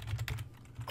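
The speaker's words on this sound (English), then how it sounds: "What we want to do is we want to type in" A short burst of quick keystrokes on a computer keyboard, close and fairly quiet, several taps in rapid succession with no voice.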